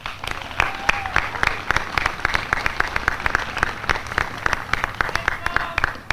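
Audience clapping at an Army and Navy Academy commencement ceremony, steady dense applause sustained throughout, moderately near and unbroken by talk.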